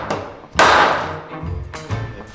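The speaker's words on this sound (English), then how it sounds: "Do you need to use a little plastic hammer?" A small plastic hammer knocks a metal part loose in a barn recording studio, a close, loud hit landing sharply near the start, then a second lighter knock as the ringing fades.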